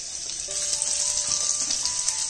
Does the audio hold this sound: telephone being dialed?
no